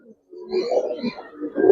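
Pigeons cooing close by, a short low throaty coo that swells and rolls for under two seconds.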